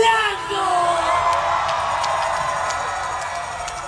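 A concert crowd at a reunion concert in the Philippines cheers and screams loudly as a band member is introduced, a sustained roar of whoops that slowly fades, with an announcer's voice at the start.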